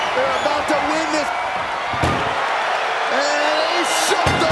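A sharp metallic slam of an ambulance door shutting rings out in WWE 2K24 during a Kurt Angle versus Mark Henry ambulance match, set against a crowd roar with whoops and bright wrestling-game audio.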